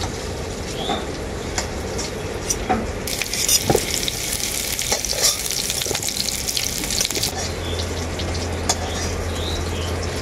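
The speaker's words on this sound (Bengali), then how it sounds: "এঁচড়গুলোকেও আমি খুব ভালো করে ভেজে নেব।" Green jackfruit pieces frying in mustard oil in a pan, with a dense, continuous crackling sizzle and a few sharp pops and stirring knocks, close and steady with no talking.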